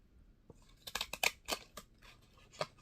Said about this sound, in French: je vais couper ma petite cartonnette pour recommencer